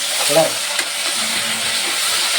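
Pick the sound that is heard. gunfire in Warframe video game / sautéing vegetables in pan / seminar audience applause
sautéing vegetables in pan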